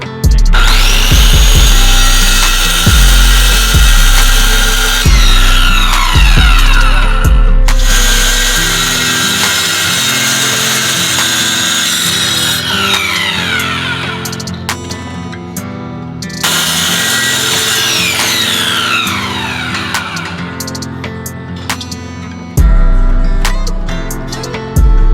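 A power drill and saw cut through a wooden subwoofer box panel during an install in a GMC Denali, with loud whining bursts, ratcheting stops and long sustained cutting passes, no talk.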